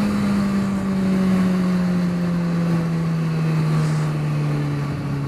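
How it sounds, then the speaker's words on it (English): A broken-down lorry passes on the road with a loud, steady low drone whose pitch sinks slowly as it goes by. Light wind rumble sits underneath, and no one speaks. "I think it's a lorry and it's broken down"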